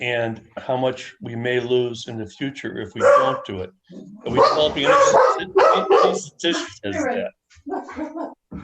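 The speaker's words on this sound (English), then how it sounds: "Sorry about my dogs barking." Household dogs bark in the background of a village board of trustees meeting, the barks tangled with continuous close speech from a participant and hard to separate from the talking.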